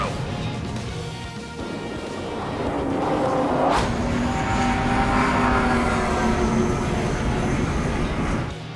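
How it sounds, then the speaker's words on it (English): Drone aircraft closing in at high speed in Ace Combat 7, a loud continuous jet roar that swells after a sharp whoosh, with a rising whining tone layered over the rumble throughout. "Aircraft approaching at high speed, bearing 280"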